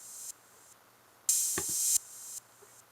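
An open hi-hat sample looped in ping pong mode in FL Studio, heard as bright, airy cymbal hiss swelling and cutting off in repeating blocks, with a brief thump near the middle.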